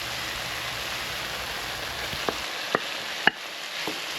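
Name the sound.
thyme and okra sauteing in a pan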